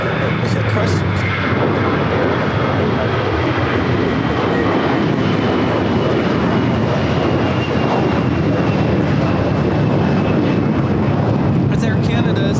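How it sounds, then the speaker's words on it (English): An Air Canada Airbus A321 takes off at LAX, a loud, dense, continuous jet engine roar that stays near and steady, with people talking over it. "It's Air Canada 792 taking off to Toronto on the A321."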